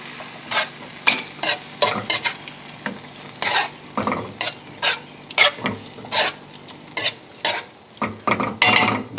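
A regular spoon stirring spice-rubbed pork and leeks in a Dijon mustard sauce in a sizzling pan, a series of close, rhythmic scrapes and clacks against the pan over a constant frying hiss.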